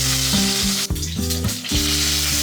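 Eggplants fry in leftover rendered pork oil in a pan, giving a loud, continuous close sizzle and crackle throughout, with background music playing over it.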